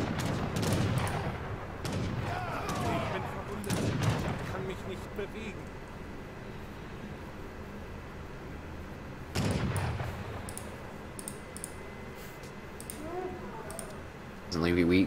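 Skirmisher musket volleys in the Age of Empires III real-time strategy game, a few sharp gunshot cracks and booms in scattered bursts amid clicking battle noise, under steady commentator talk.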